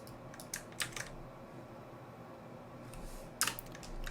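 Quiet keyboard typing in short scattered clusters of soft clicks, separated by a long lull over a low room hum.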